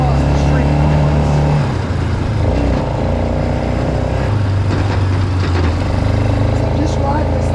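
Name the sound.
four wheeler ATV engine idling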